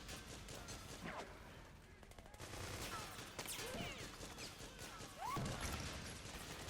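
Gunfire rattles through a firefight in Metal Gear Solid 4, with repeated shots and bursts of automatic fire, some near and some distant, over a busy background of game sounds and effects.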